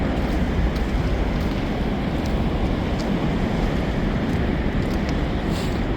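Heavy water of Niagara Falls pounding down at night, a dense, steady roar filling the air without letup, loud and continuous with no voices over it.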